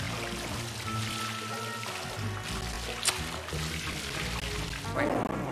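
Water pours steadily in Luigi's Mansion 3, a continuous splashing stream that fills the whole stretch over low game ambience, with a brief sharp accent near the middle.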